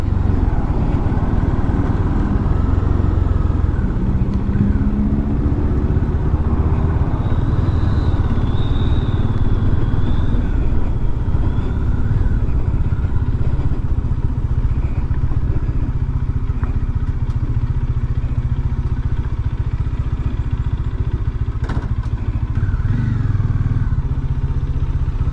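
A motorcycle engine idles and revs at a Malaysian bike shop visit after an auto show, a steady loud low rumble running continuously with broadband clatter and no talk.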